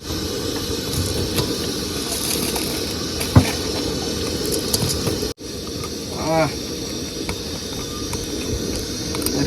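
Water boiling in a pot for Maggi noodles gives a steady, close hissing bubble, broken by a single sharp knock and a brief dropout midway.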